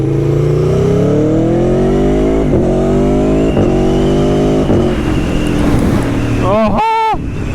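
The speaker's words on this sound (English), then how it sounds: "just the sound of the quick shifter is really what makes it, that pop, and it's just so smooth" An Aprilia Tuono 1100 Factory V4 motorcycle revs up close and loud through several quick-shifter gear changes, each shift a brief dip in the rising engine note, ending in a short burst of speech over the engine.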